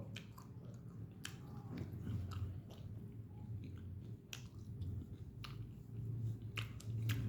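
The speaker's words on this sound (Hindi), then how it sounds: "घुमाते रहो, चबाते रहो," Soft, close chewing and crunching of food between the teeth, with irregular small bites and squishes repeating over several seconds at low volume.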